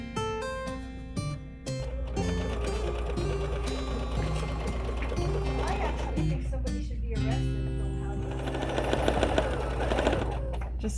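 Sewing machine chain stitching quilt fabric for a Christmas wall hanging, a fast steady mechanical whir and needle rattle running almost throughout, close up, with a brief stop near the start and a pause around seven seconds.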